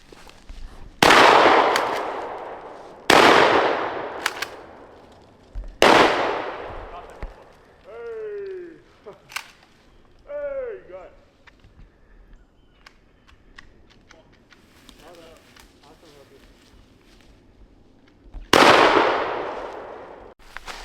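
Gunshots while hunting in the countryside, several loud sharp cracks ringing out with decaying echoes, spaced a few seconds apart, with quieter rustling and brief squeaky sounds between them.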